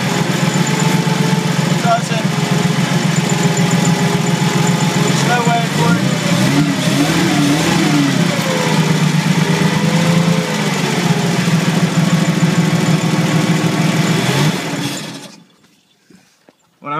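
A 1971 Clark C500 Y80 forklift engine runs loud and steady, with the throttle worked up and down so the pitch rises and falls, before it cuts off abruptly near the end.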